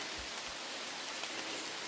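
Steady rain falls by a creek, a dense, even hiss of drops on water and ground with no breaks, fairly faint and with no voices.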